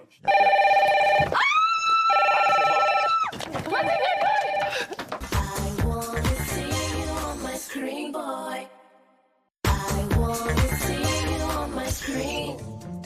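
A red telephone ringing inside the Secret Story house, loud repeated electronic ringtone bursts at the start, then mixed with music-like tones and a brief silence before the sound resumes.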